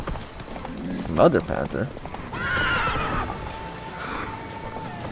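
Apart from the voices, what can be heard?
Roach the horse galloping and neighing in video game The Witcher 3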